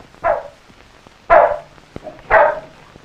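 A dog barks three times, close and loud, with short pauses between each bark.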